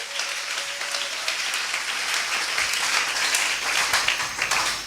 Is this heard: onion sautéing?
no